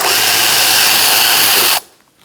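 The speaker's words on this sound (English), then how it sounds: "We're going to take out our Torx bit screws." A power drill whirs steadily and loudly inside the wheel well of a 2012-2018 Ford Focus, backing out Torx bit screws, then cuts off sharply, leaving quiet room noise.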